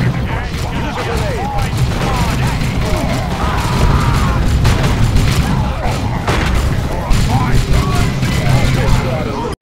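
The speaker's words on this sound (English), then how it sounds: "Use a grenade!" Battle din from the Dawn of War: Chaos Rising strategy game, with booms and bursts of gunfire as grenades go off among ruins, a dense, loud, continuous wash of combat noise with scattered sharper blasts.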